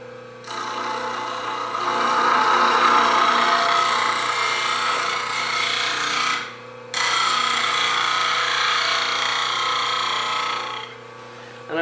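A bench grinder sharpens wood turning scrapers held in a sharpening jig, a loud continuous grinding rasp over a motor hum in two long passes with a short break between.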